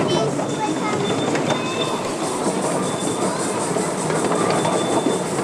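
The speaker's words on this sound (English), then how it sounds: "I see that steam engine." A train carries riders with continuous rumbling and rattling rail noise, faint clickety-clack and occasional wheel squeal, steady and close throughout, with people talking over it.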